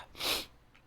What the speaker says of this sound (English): I could feel that sneeze coming on